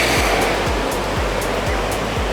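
Surf on Miramar Beach rolls in as a steady, loud wash of broadband noise, with low rhythmic thumps of breaking waves recurring about every half second and no voices.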